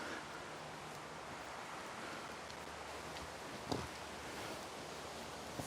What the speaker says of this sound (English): We've got the cascading water down here